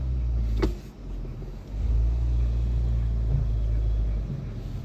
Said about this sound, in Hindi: अब आप गाड़ी डालो जी गियर में।